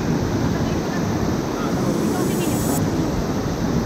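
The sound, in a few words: Sungai Keleming waterfall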